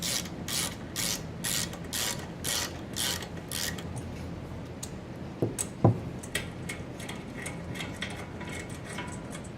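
A ratchet wrench clicks in quick rhythmic bursts, loosening 13 mm nuts over lock washers on the muffler of a Briggs & Stratton 950 Series engine, close and crisp, with a couple of sharper metallic knocks after the bursts.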